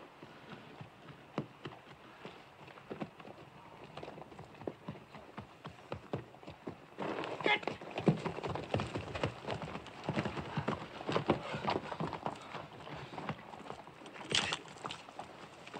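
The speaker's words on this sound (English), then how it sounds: "Get them horses under cover." Horses' hooves clip-clop in an old western film, with irregular hoofbeats and shuffling at moderate distance, growing busier and louder partway through against a hissing, rain-like background.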